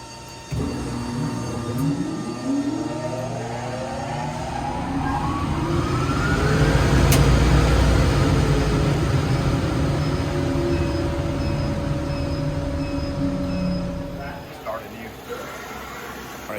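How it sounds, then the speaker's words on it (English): Kaiser rotary screw compressors and a dust collector running in a metalworking shop, a loud layered mechanical drone whose tone sweeps upward as the collector spins up and loads, then settles into a steady hum before cutting lower. "And that's the Kaiser rotary screw compressors you hear running in the background."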